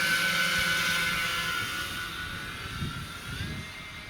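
RC model Avro Lancaster bombers, Hobby King V3 "Dumbo" models flying in close formation, drone overhead with a steady multi-engine whine that slowly fades, some wind rumble underneath, no speech.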